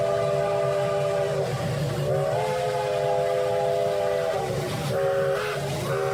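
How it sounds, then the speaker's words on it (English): A Norfolk Southern train rumbles past with a steady low roar while a long, multi-tone whistle sounds repeatedly, loud and close. "you do hear that cool whistle there"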